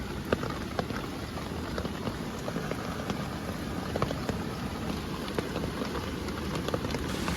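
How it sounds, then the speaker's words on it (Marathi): Heavy rain pours down during fishing in village floodwater, a dense, steady patter of drops hitting surfaces close by, with scattered sharper splashes and no voices. "ते खूप जास्त पाऊस आहे त्याच्यामुळे बघता येणार नाही"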